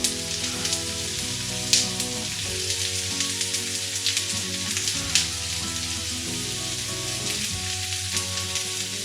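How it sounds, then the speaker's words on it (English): Onion and garlic fry in olive oil in a pan, giving a steady, dense sizzle with light crackles and occasional stirring clicks, and no talking. "olive oil, and we start with onion"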